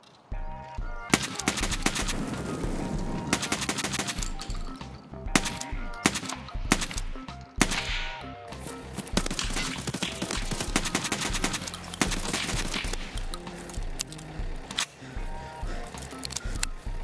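Repeated blasts of an MP-153 shotgun firing flechette rounds in Escape From Tarkov on the Customs map, loud irregular shots and bursts of gunfire layered over continuous background music.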